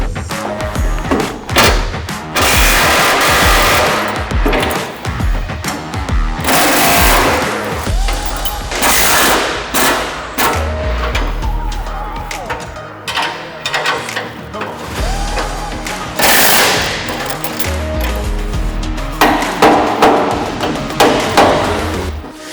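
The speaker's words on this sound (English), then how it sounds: "a 15/16 wrench and socket with an impact to take that bracket off" An impact wrench with a 15/16 socket removes the bracket bolts on a MUSKOX 24-Series snowblower: repeated loud, rattling hammering bursts close by, with clanks and brief pauses between runs.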